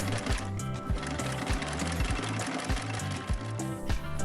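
Sewing machine stitching through six layers of sailcloth and muslin fabric for a camera gear bag, a loud, steady mechanical rattle with rhythmic pulsing, close up and continuous with no talking.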